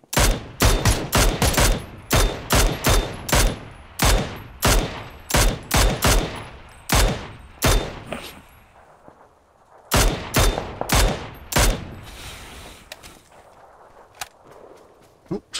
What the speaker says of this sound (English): There's that shotgun? It sounds close as well.